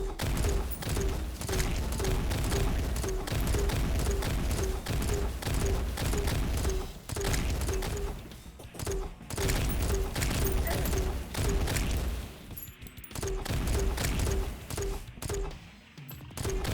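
Launcher fire at the Golem boss in Terraria, a steady rapid train of punchy shots repeating for many seconds, breaking off briefly near the end, over busy game music and effects.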